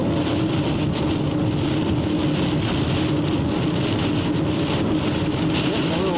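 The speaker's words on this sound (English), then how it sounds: "But this is a good rainstorm." Rain pounds a storm-chasing car during a Colorado supercell with a tornado threat, a dense, steady hiss and drumming that fills the whole stretch without pause.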